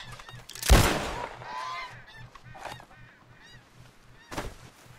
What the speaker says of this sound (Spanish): Un ganso canadiense.